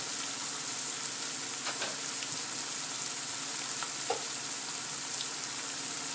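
A pot of Mexican food cooking on the stove, a steady low sizzle and bubbling with a few faint stirring ticks scattered through, even and moderately quiet throughout, with no voices.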